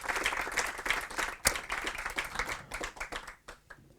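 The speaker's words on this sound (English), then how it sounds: "can I have please a warm thank you applause for these three amazing" An audience applauds panel members at a design talk show, giving brisk, dense clapping with a few sharp louder claps that gradually thin out toward the end.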